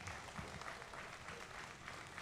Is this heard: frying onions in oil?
no